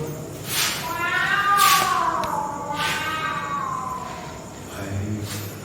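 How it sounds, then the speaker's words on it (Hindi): A cat meows several times in long, drawn-out, eerie wails at a reputedly haunted spot, fairly close and loud, each cry rising and falling, with a short lower call near the end and faint background noise. "वो बिल्ली की आवाज से रोंगटे खड़े हो जाते हैं"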